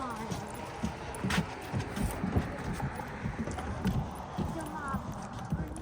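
Horses clip-clop at a steady walking rhythm on a Lost Canyon horse tour in Wisconsin, the hoofbeats fairly close and moderately loud, with people chatting over them.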